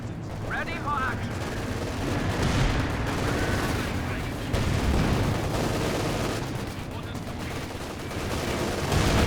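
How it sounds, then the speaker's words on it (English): Battle noise from the strategy game Company of Heroes 2, with machine gun fire rattling amid booming artillery and explosions, a loud, continuous wash of gunfire with a commentator talking over it. "Machine gun."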